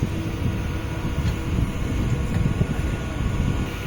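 An old conventional MEMU electric passenger train departing Arakkonam on the Chennai–Bangalore route, a steady dense rumble and hum of the running train heard from inside, continuous and fairly loud with no talk.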